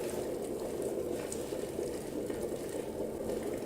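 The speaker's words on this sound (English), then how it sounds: "I think you can probably hear the boiling water" Steady, dense bubbling roar of water at a rolling boil in an electric kettle, close and continuous with no voices.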